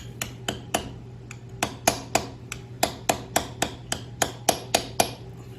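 A socket is tapped against a crankshaft seal on a Yamaha YSR50 to seat it, producing a close, steady run of about sixteen sharp metallic taps over a low background hum.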